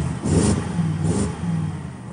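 A BMW E63 prototype engine being revved during freezing-cold weather testing, two swelling revs followed by a lower sustained rumble, close and loud throughout.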